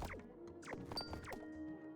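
A bell dings in the Wireworks video game, a single bright ring standing out near the middle of busy game sounds with knocks and clunks around it.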